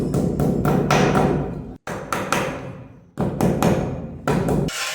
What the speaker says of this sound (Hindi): पीवीसी गुटका लगाएंगे